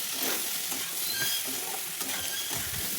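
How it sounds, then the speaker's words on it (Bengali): Soybean chunks frying in a pan with salt and turmeric, giving a loud, continuous sizzle with crackle and occasional stirring scrapes, close to the pan. "এবার সয়াবিনটা দিয়ে একটু ভেজে নিয়ে দিয়ে দিচ্ছি লবণ আর হলুদ দিয়ে আর একটু ভেজে নেব"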